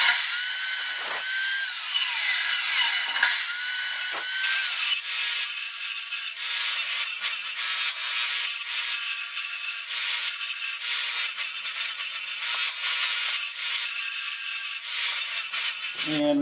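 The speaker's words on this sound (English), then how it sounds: "I'll have to cut 1, 2, 3, 4, 5, 6 more of these dowels." A power saw cuts metal dowels for a welded grinder tool storage rack, a continuous harsh, high-pitched grinding whine that holds steady and close throughout.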